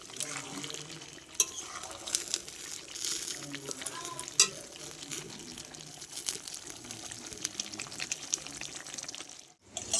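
Mutton stir-fried in a pan with whole garlic cloves, sizzling steadily with frequent scraping and stirring clatter, fairly quiet and close.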